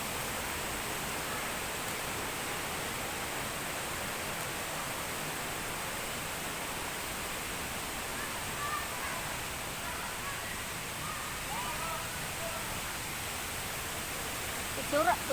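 Mandayao Waterfalls at La Castellana, Negros, roars as a steady, broad wash of falling water, constant and moderately distant, with no break throughout.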